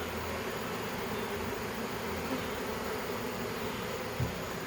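A steady, close droning buzz of a huge swarm of honey bees in a truck bed, continuous and even, with a faint tap near the end; no talking.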